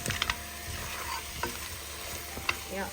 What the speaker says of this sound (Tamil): நல்லா அழகாக கைவிடாத 2 நிமிஷம் அப்படியே வதக்குவோம்.